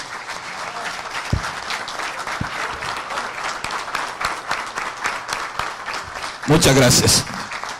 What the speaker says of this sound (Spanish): quiero pedirle a este salón que hagamos un fuerte aplauso de solidaridad con Haití